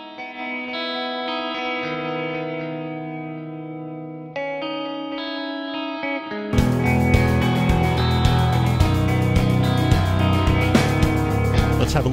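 A melody guitar with its upper mids lightly boosted and its mids compressed in iZotope Alloy 2 plays sustained notes alone at first. A full band mix then comes in loudly and continues under it.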